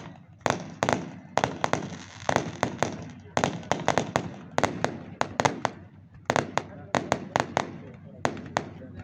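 Firecrackers burst at a Hanuman Jayanti temple festival in a rapid, irregular string of sharp cracks and pops, loud and close, with a steady crowd murmur running underneath.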